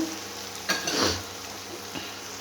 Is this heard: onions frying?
yes